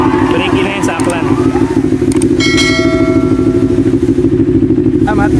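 A 500cc big bike motorcycle idles with a steady, loud, close engine drone, while people talk nearby and a bell-like chime rings briefly partway through.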